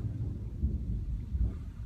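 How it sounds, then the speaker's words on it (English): A thunderstorm rumbles as a low, continuous roar of rolling thunder with gusty wind buffeting the microphone, fairly loud and steady throughout. "Sorry about this thunderstorm."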